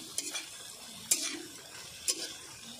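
Spices, chicken masala and garam masala, being stirred into a potal curry in a pan, three distinct spoon scrapes about a second apart over a faint low sizzle, no talking.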